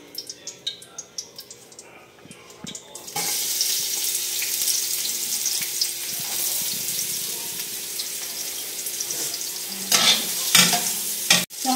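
Ginger dropped into hot cooking oil for chicken tinola sets off a steady sizzle lasting most of the clip, after a few quieter seconds of kitchen clatter, with occasional stirring clinks near the end.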